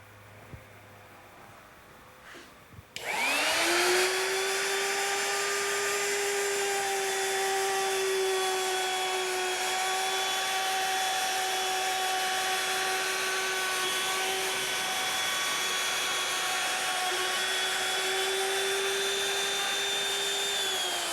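An electric router starts up about three seconds in and climbs to a loud, steady high whine. It keeps running at full speed while cutting wood for a cabinetmaking job, near and with no talking.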